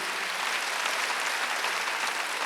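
A church congregation applauding during a Wednesday worship service, with dense, continuous clapping from many people held at an even level throughout.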